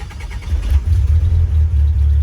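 An old Toyota pickup truck engine cranks and fires up via a push-button bump starter, a close, loud low rumble that stutters at first then settles into a steady idle.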